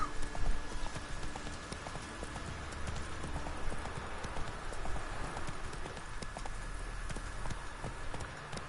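Rapid, rhythmic hoofbeats from a galloping horse in The Witcher 3 video game. They run as a continuous clip-clop over a low rumble of game sound, with no talking.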